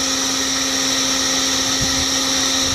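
Steady whirring blower drone of a heat gun lighting charcoal in a Weber Smokey Joe grill, continuous and close with a constant hum, heard alone.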